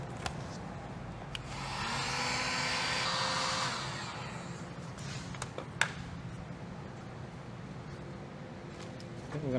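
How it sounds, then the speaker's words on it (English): A heat gun warming a plastic fender flare on a 2015-2020 Ford F150 Lariat, a steady airy blowing hum that swells for a couple of seconds then settles lower, with scattered clicks and knocks of handling nearby. "I'm gonna get a heat gun."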